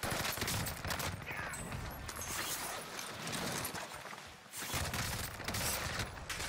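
Dense, continuous gunfire in the Warzone video game, sustained bursts and overlapping shots filling the scene at close range, with a brief lull before the firing resumes loudly.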